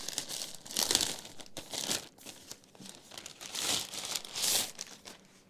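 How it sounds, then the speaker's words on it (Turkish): A plastic bag around a Moza R5 sim-racing wheel base is opened, giving several bursts of close crinkling and rustling with brief pauses between. "Hemen şöyle içerisinde ben bir poşetini açayım"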